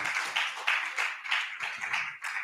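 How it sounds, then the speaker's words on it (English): An audience at a business summit on digital assets in Africa claps in steady applause, a dense patter of hands in a large hall, moderately distant and even throughout. "Let's give them a round of applause as they take the picture."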